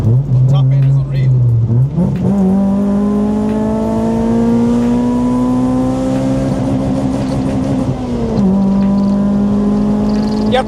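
A Honda Civic engine revs hard while driving, its loud sustained tone climbing steadily through the gears with a brief dip at a shift, up close and continuous for the whole stretch.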